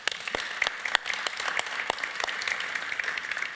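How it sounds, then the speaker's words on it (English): Brief applause from an audience at a mobility and public transport talk, sharp individual claps popping out of a steady patter for a few seconds. "Round of applause."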